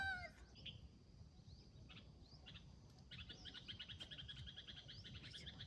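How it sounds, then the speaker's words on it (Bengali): Birds calling from trees on a large hill, several short chirps and trills scattered across the clip, growing busier toward the end, faint and distant over a low rustling background. "কত সুন্দর পাখি ডাকে।"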